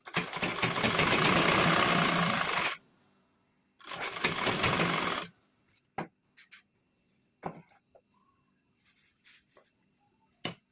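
A sewing machine stitches the button strip of a princess-cut blouse in two loud, close runs of rapid needle chatter, each a few seconds long, followed by faint clicks and fabric handling.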